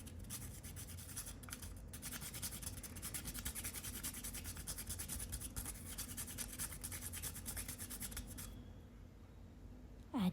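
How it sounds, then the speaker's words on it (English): Nutmeg is grated over a blender jar of chopped apples, cashews, almonds and dates, giving a close, quiet, steady rasping scrape that continues for several seconds before stopping. "Grate some nutmeg over it."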